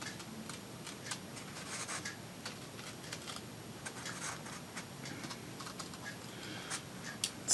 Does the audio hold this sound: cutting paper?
yes